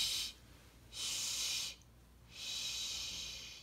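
A voice imitates snoring in a children's song about bush babies on a bus, with three long breathy hissing snores separated by short pauses.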